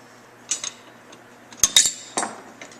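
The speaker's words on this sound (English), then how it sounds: "Now you just heard one fall" A few light metallic clinks and taps during snowmobile suspension work, then a small metal bushing drops and bounces with quick bright pings on a hard surface.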